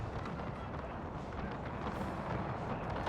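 Canister shot artillery fire in Napoleon: Total War rolls out as a faint, distant rumble, a continuous muffled blast-and-rush of noise with no talk over it.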